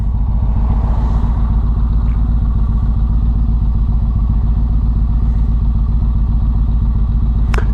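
An M201 motorcycle being ridden, its engine running loud and close with a steady, fast pulsing throb that holds an even pace throughout and has no voices over it.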